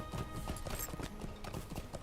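Horse hooves clip-clop in a steady walking rhythm while riding in the online game Lord of the Rings Online, fairly quiet and continuous throughout.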